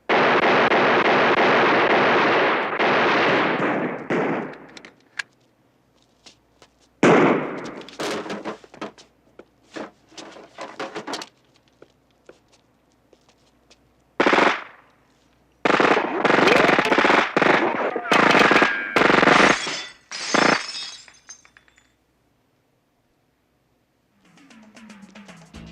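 Bursts of heavy gunfire and rapid machine gun fire in a Miami Vice TV episode, loud and close, coming in several long volleys separated by short silences, with a brief voice near the end.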